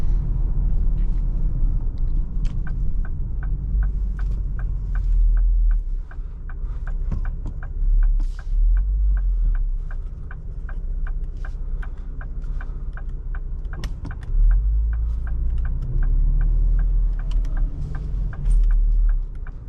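A 2025 Ford Explorer ST cruising in sport mode on a highway, heard from inside as a low, steady road rumble with a regular ticking running through it.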